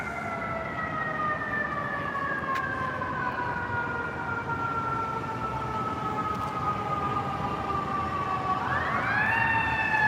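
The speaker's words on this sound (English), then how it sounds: "Oh, I hear the sirens." An FDNY fire truck siren on a New York City street during the holiday season, a steady wailing tone holding across the street noise before sweeping sharply upward near the end, fairly distant and with no talk over it.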